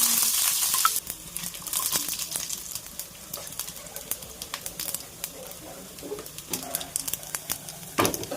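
Onion and curry leaves sizzling in a mustard-seed tempering for ridge gourd curry, a bright hiss that fades after the first second into crackling pops and utensil clicks close by.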